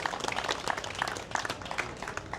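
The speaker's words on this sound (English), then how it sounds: "Give these sponsors a round of applause." A car show crowd applauds the sponsors with faint, distant, steady clapping that continues throughout.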